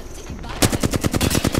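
Rapid automatic gunfire in a ranked online shooter match rattles out after a short pause, a fast even burst of loud, close shots.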